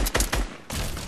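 Rapid video game gunfire, a quick string of loud close shots followed by a sustained burst of firing.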